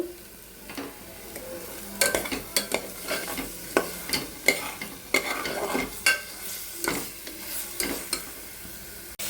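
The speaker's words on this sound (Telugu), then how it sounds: "కొంచెం కరివేపాకు వేస్తున్నాను" Curry leaves dropped into hot frying oil while mutton keema is prepared, giving an irregular sizzle and crackle with scattered stirring scrapes and pan knocks, close and moderately loud with no talking.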